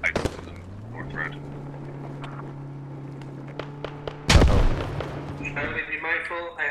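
Gunfire in a firefight in the video game Squad, with a sharp burst and a loud heavy blast partway through, followed by further shots.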